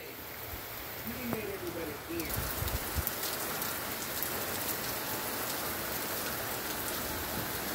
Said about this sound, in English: Beautiful rain on the bay.